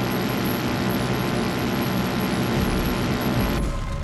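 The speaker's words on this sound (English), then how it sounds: "Sounds like the cult's got a recon helicopter in the air identifying resistance strongholds." A recon helicopter in Far Cry 5 drones with a steady, heavy low rumble and rotor noise, loud and constant before cutting off abruptly near the end.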